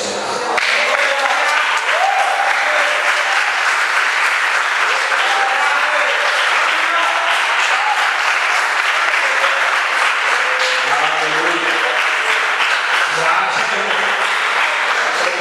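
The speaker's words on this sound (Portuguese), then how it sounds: "Aplauda o Senhor." A church congregation breaks into loud, sustained applause during a sermon, dense continuous clapping from a large crowd with a few voices rising over it.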